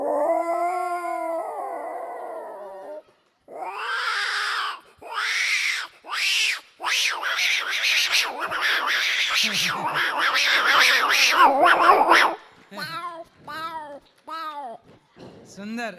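A voice mimics two cats quarrelling, first a drawn-out moaning yowl, then rising, overlapping screeches and wails building to a loud, frantic squall before trailing into short, wavering cries.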